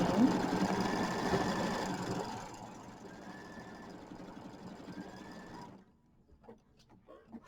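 An embroidery sewing machine stitches a tack-down line for a mini quilt, its dense motor whir and needle rattle running steadily and close before easing lower and stopping, followed by a few faint clicks.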